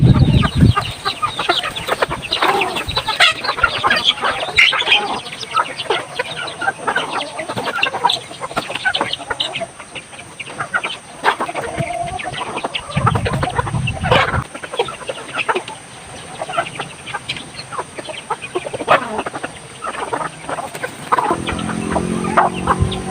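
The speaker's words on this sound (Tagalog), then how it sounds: "So papakainin na natin ito mga ka-idol, ating mga manok mga ka-idol." A flock of chickens clucks busily while being fed, with repeated close clucks and scattered squawks over a steady background of scratching and rustling for about twenty seconds.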